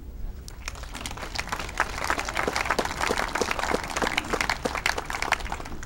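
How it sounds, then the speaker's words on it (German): A short round of applause from an audience thanking sponsors at a speech, dense clapping steady for about six seconds, moderately loud, with faint voices underneath. "Ich bitte um einen kurzen Applaus."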